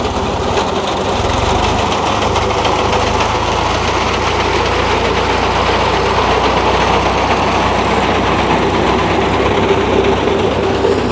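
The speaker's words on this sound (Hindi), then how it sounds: "सरसों का वाया है वो लंबा कम होने के कारण ट्रैक्टर को बेग घुमाया जा रहा है" A tractor with a mustard reaper attachment turns during the mustard harvest in a field, its engine droning loud and steady throughout with a dense mechanical clatter from the cutter, and no talk.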